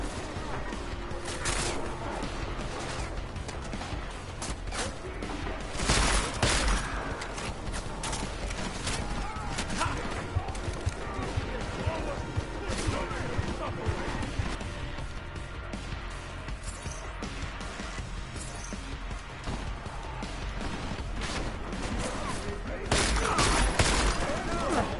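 Gunfire from a tactical shotgun and other weapons in Deus Ex: Mankind Divided, loud bursts and crashes scattered over steady noise, heaviest around the start and near the end.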